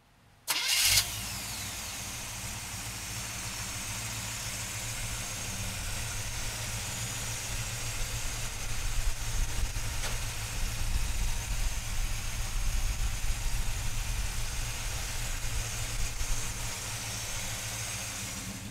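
A 1972 GMC 4x4 pickup engine cranks and fires after a short quiet moment, then settles into a steady close idle with a low even rumble that swells slightly midway.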